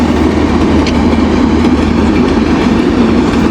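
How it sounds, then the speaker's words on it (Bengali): A train rumbles past close by, a steady low roar with rhythmic rail clatter running throughout. "ট্রেন যাচ্ছে"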